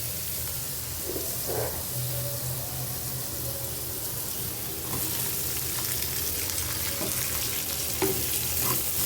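Chopped onion and garlic paste fry in hot oil in a pan, a steady sizzle running throughout with occasional stirring scrapes and clinks, fairly close and moderately loud, no voices.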